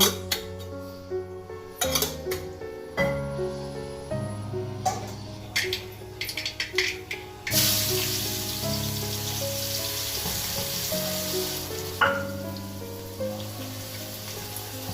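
Mustard seeds hit hot oil in a pan during Kerala sadhya cooking. Sharp pops and clinks of utensils come first, then a dense sizzling hiss takes over and stays loud and close.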